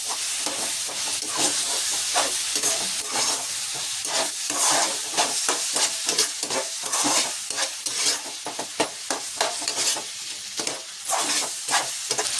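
Tindora and tomato curry is stirred in a pan after crushed garlic and coriander powder go in, making a close, busy sizzle broken by repeated scraping strokes of a spatula against the pan.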